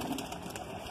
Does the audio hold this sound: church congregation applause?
no